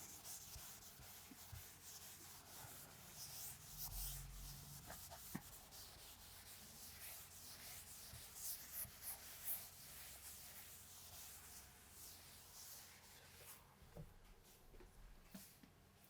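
Writing is rubbed off a classroom board during a science lesson: faint, repeated scratchy rubbing strokes go on steadily for several seconds, close by, with no one speaking.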